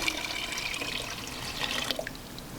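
Tap water runs steadily into a large cooking pot, a continuous splashing pour close by with no talking.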